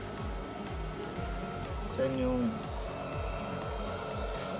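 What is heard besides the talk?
cooling blower running on a Bosca solar power inverter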